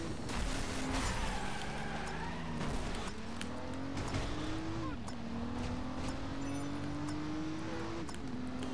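Driver San Francisco cars race in a multiplayer game, engines revving up through gear shifts again and again while tires squeal and skid, loud and continuous for several seconds.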